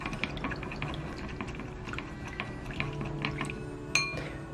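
Spoon stirring a dressing of aged vinegar, soy sauce, oyster sauce and a little salt in a small bowl: soft, close liquid swishing with faint ticks and one brighter clink near the end, quiet and with no talk.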